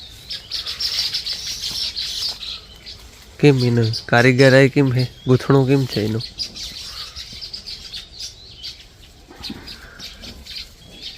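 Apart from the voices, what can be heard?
sparrows chirping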